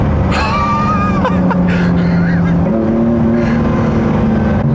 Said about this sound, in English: I'm gonna floor it very briefly.